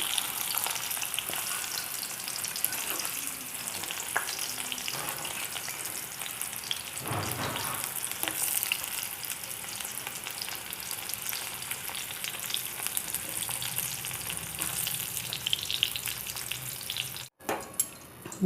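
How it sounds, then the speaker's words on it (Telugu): Bitter gourd with onion and chili paste frying in oil in a pan, a steady close sizzle with occasional stirring scrapes running for many seconds before a brief clatter near the end, no voices. "మళ్ళీ మనం కారం పెట్టిన తర్వాత కూడా వేగాలి కదా, ఇంతవరకు వేగితే చాలు."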